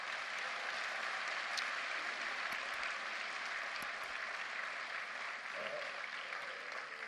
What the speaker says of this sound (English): Give Neha a big round of applause once again.